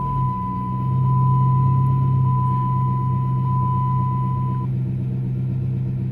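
A car engine idles with a steady low rumble while a continuous high-pitched beep tone sounds over it, then stops partway through; a Dodge or Chrysler car with its immobilizer light on, during key programming.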